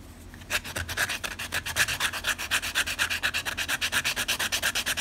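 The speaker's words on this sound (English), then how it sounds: "So we're just gonna sand away for a little bit here. Just smooth all of this out, get it nice and flat" Rapid rhythmic sanding of a swimbait lure body, rubbing it smooth and flat with steady back-and-forth strokes, close and fairly loud, with no one talking.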